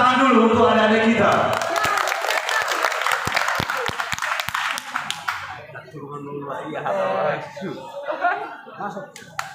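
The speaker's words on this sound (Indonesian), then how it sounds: "tepuk tangan dulu untuk adik-adik kita" An audience at a pencak silat performance claps in a burst of sharp, dense applause that fades into laughter and lively chatter.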